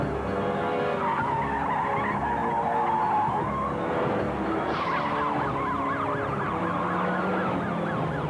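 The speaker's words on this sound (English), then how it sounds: "The Bentley sped from the house eastbound, and the chase Very quickly, it became high speed." A Bentley speeds eastbound in a high-speed police chase: loud tire screeching and engine roar mix with a wailing emergency siren that rises and falls, continuous and close throughout.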